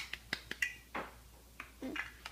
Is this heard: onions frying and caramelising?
no